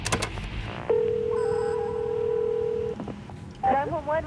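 A telephone being dialed for 911 in an emergency: a few sharp clicks, then a long sustained tone and a short run of beeps, with brief voice sounds at the start and end.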